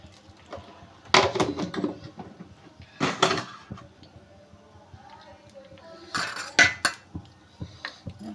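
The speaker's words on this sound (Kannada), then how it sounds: "ಈಗ ಒಂಚೂರು ಕೋಸಂಬರಿಗೆ ಒಗ್ಗರಣೆಗೆ ಹಾಕಿಬಿಡ್ತೀನಿ." Metal utensils clink and clatter against pots and dishes in a home kitchen while a tempering (oggarane) is prepared for kosambari salad, in short bursts with quiet gaps and a voice speaking softly in between.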